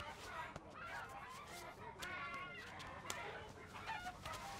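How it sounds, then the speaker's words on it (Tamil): Busy outdoor scene at a live chicken seller with chickens clucking and squawking throughout, mixed with overlapping human voices in Tamil and background chatter. "அண்ணே அந்த கோழியை நான் உயிரோட வாங்கிக்கிறேன்"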